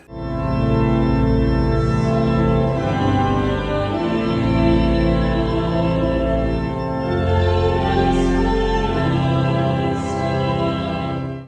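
The pipe organ of the Metropolitan Cathedral of Medellín plays sustained, full chords with deep bass, resonating continuously in the large reverberant cathedral.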